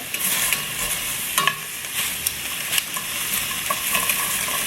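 Onions and garlic sizzle in a frying pan as they are moved around. A steady, close hiss runs throughout, with light stirring clicks scattered over it and no talking.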